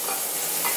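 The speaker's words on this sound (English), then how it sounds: "So I'm gonna put butter on the pan." Butter sizzles in a frying pan with a brief, steady, soft crackling hiss. No voices are heard.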